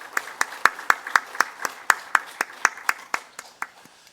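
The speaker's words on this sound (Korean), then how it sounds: "우리 박수로 귀한 찬양대 우리 격려하겠습니다." A church congregation claps for the choir at a Sunday service, a string of about fifteen sharp, evenly spaced claps over four seconds that sound like a few hands rather than a full crowd, fading slightly toward the end.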